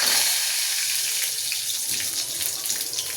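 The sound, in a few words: cumin seeds crackling in hot oil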